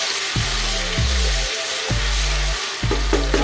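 Ginger and garlic roasting in a pan for cabbage-and-meat gobi gosht, a steady bright sizzle with a few low thumps from the pan, close by, with no talking.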